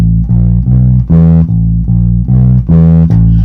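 A jazz-flavoured walking bass line with a chromatic passing note, played as a loud, steady run of distinct plucked notes, about eight in just over three seconds, with no talking.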